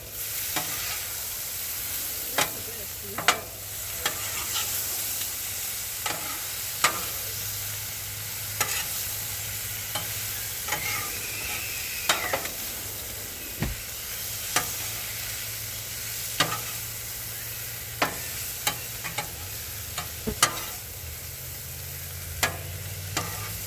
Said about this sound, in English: let's go ahead and mix this all together